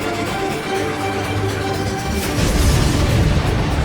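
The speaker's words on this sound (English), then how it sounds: "That's a confirmed direct hit by the missile." A missile explosion in the Ace Combat 7 video game, a deep rumbling boom that swells louder near the end over a steady roar of broadband noise, with no talk.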